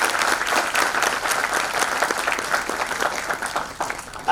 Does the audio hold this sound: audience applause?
yes